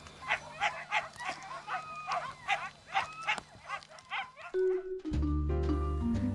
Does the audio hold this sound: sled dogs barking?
yes